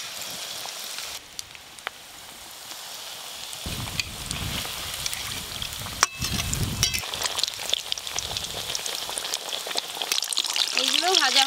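Food frying in a pan sizzles and crackles near the microphone, building from a light hiss to a fuller, busier spatter with occasional clinks of utensils.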